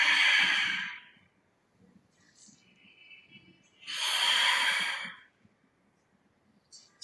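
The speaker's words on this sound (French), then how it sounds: "J'inspire sur la moitié d'un cercle, j'expire sur l'autre moitié." Long audible breaths during a Pilates exercise, a loud hissing exhale, a quiet gap with faint breathy sounds, then another strong rushing breath and a brief final intake.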